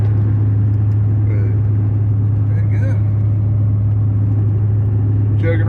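Chevrolet Suburban engine chugging along steadily after an upshift in traffic, a constant low drone with a strong steady hum underneath, while someone talks over it at times.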